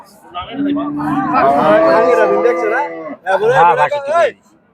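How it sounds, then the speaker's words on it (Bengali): Cattle at the Chandina livestock market low out in long, loud, nearby moos, one extended call followed by a shorter second one, with faint crowd chatter in the background. "সুন্দর সুন্দর কিছু মাংসের গরু দেখা যাচ্ছে"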